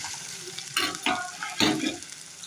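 A spoon stirs potatoes and peanuts frying in hot oil with cumin, a soft sizzle under three or four distinct scraping strokes close by, with no talking.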